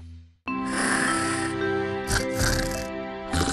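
Loud, continuous snoring with rough, rattling vibration in the throat, heard close and alone in an advertisement for an anti-snoring oral spray, with a short pause before the breath starts.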